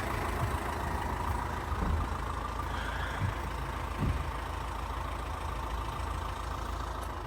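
A 2013 Fiat Freemont 2.0 diesel engine idles steadily at low volume, a continuous rumbling hum with a few faint knocks and thumps nearby.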